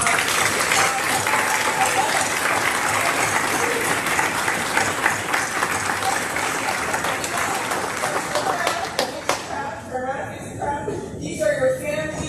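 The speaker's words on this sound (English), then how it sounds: "Can you give them a loud round of applause?" A graduation audience gives school staff a long, loud round of applause, with dense clapping and some cheering that fades toward the end, while a voice speaks over it.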